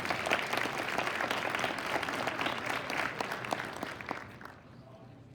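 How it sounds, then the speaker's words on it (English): A convention crowd at the annual Ohio fairs gathering in Columbus bursts into sustained applause, dense clapping that holds steady then thins and fades out near the end. "Yes, let's clap."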